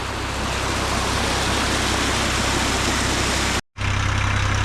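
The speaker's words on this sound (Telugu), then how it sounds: "2 భారీ మోటార్ల సహాయంతో వాటర్ని అయితే తోడిపోస్తున్నారు." Two heavy motor pumps draining muddy water at a construction site for the Amaravati Iconic Towers, heard as a loud, steady engine drone that runs continuously, briefly cutting out near the end before resuming.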